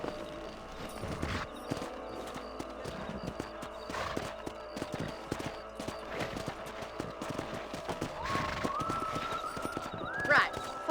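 Horse hooves clip-clopping at a walk in the Red Dead Redemption western video game, a steady rhythm of close thuds and clops with snorts and a whinny, under intermittent talking.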